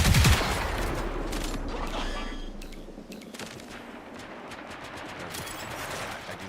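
Bursts of gunfire in an extraction shooter video game, a loud blast up front followed by scattered, sharp shots and rattling fire that fade into a lower-level background over several seconds.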